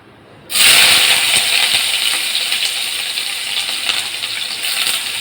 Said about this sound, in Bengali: এবার আমি এর মধ্যে দিয়ে দেবো কুচানো পেঁয়াজ